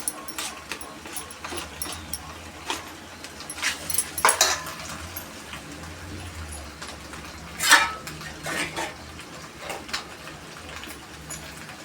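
Pasta being stirred into masala in a cooking pan for a lunch box: intermittent scraping and clinking of a utensil against the pan, with a couple of louder metallic knocks, close by.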